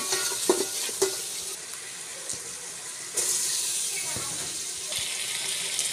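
Rice frying in oil in a pot for kacchi biryani gives a steady close sizzling hiss, broken by a few scraping stirs and utensil knocks.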